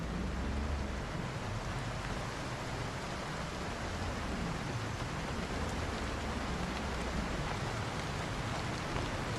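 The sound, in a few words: rain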